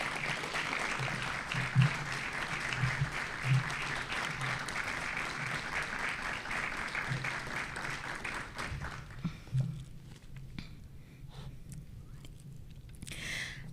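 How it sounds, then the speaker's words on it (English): Sustained applause from an audience at a district address, a dense, even wash of many hands clapping that carries on steadily before thinning toward the end. "give our students and staff a round of applause for this progress"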